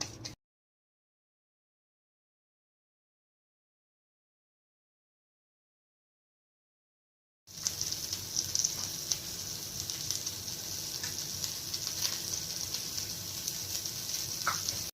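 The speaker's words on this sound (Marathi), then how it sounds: "याच्यामध्ये कोट करून आता आपल्याला बोंबील चांगले फ्राय करून घ्यायचे आहेत" After a long silence, fish begins frying on a hot griddle, a loud, continuous sizzle with occasional pops and crackles.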